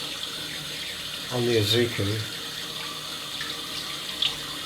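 Water runs from a tap into a sink in a short burst as shaving water is warmed, with a faint voice speaking briefly under the flow.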